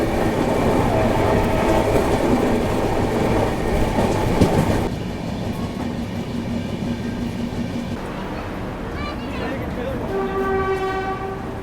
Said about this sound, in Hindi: अपनी ट्रेन डिपार्ट कर चुकी है थ्रिसूर रेलवे स्टेशन से